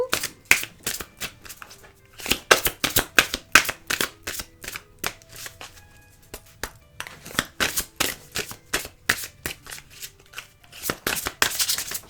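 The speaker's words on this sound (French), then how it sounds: "nous allons prendre... la carte de Dorine Virtue" Oracle cards being shuffled by hand, a close series of crisp riffling flutters and taps in quick irregular bursts, one after another, with soft gaps between.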